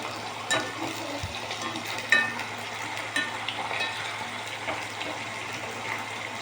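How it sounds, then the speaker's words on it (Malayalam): Chopped jackfruit fries in hot oil in an iron wok, giving a steady crackling sizzle with occasional soft clinks and stirs, close and even throughout. "ഇനി നമുക്കതിലേക്ക് ചക്ക അരിഞ്ഞത് കുറച്ച് ഇടാം."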